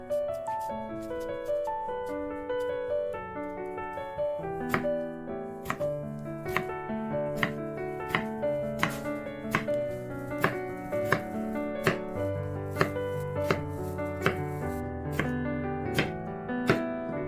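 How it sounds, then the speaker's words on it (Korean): A knife slices a halved cucumber on a cutting board in brisk, evenly spaced taps that grow steadier as the cutting goes on, heard over soft background music. "오이의 양끝을 자르고 오이를 반으로 자른 후 썰어줍니다."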